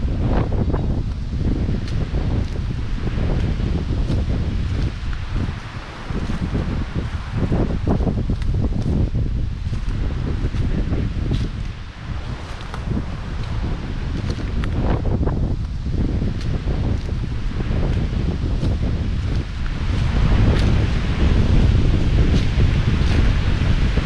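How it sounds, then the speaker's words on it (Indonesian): Strong, gusty wind roars steadily through a pine forest on a mountain, with a broad, continuous rushing that swells and dips, loud and close with no talk. "kondisi cuaca mulai ekstrim, ditandai dengan tiupan angin kencang yang membuat daun dan dahan-dahan kering berjatuhan"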